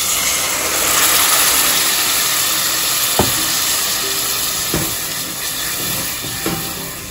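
Water hits frying spices, ginger and garlic in a pan and raises a loud, steady steaming hiss, broken by a few soft knocks of a utensil against the pan.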